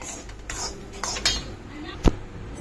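Gram dal being roasted in a metal pan, with a spoon scraping and stirring it in a few scattered bursts and one sharp clink near the end; moderately close, with no talk over it.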